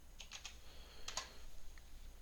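Quiet bursts of computer keyboard typing, two short clusters of keystrokes entering a password, heard close against faint room noise.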